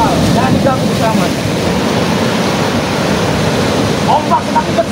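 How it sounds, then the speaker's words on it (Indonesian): Big ocean waves surging on a beach, a loud, steady roar of rushing surf and wind buffeting the microphone, with voices faintly audible underneath. "Ombak semakin besar."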